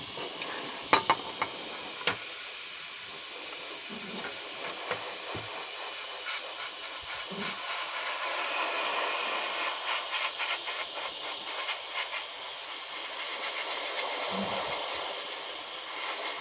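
An airbrush sprays paint while painting a 1/35 Italeri S100 Schnellboot model, a continuous close, even hiss of air with a few brief clicks early on and slight swells in strength.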